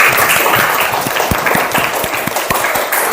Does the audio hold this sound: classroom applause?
yes